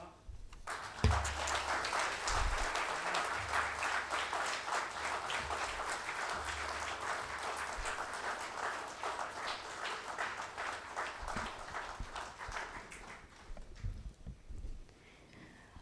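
An audience applauds steadily for about fifteen seconds, a dense, sustained clatter of many hands that tapers off near the end.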